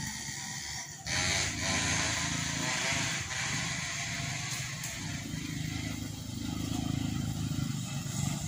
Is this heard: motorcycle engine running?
yes